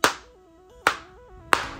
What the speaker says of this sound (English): how nice is that clap sound when closing the phone?